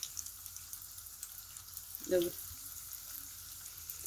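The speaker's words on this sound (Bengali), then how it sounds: "আমি এখন মাছের পিসগুলি এইভাবে একটু ভেজে নিব" Pieces of hilsa fish fry in oil with a faint, steady sizzle close by, interrupted once by a brief louder clink or scrape.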